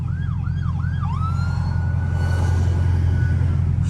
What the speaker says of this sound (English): what is the sirens, bro?